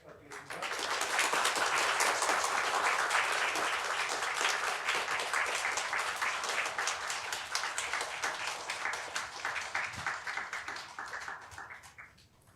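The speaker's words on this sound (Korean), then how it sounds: "박수 크게 부탁드리겠습니다." Sustained applause from a Korean Methodist church congregation during a Thanksgiving Sunday service, loud and dense for roughly ten seconds before gradually thinning out, with faint voices mixed in toward the end.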